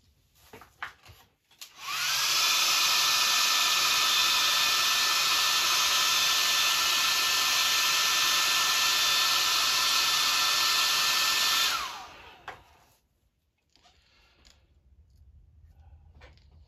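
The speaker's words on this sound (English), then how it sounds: "I'm not gonna clean my airbrush yet, but I am gonna heat dry it." A handheld heat dryer roars steadily for about ten seconds to dry fresh airbrushed paint on a red devil crawfish lure, switching on and off cleanly with quiet handling noise around it.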